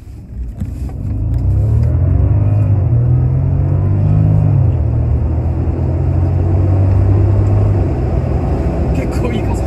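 Bentley 6-litre W12 twin-turbo car with 625 horsepower accelerating hard, heard from inside: a deep engine rumble swells and climbs in pitch, then holds steady and loud, with voices talking inside the cabin.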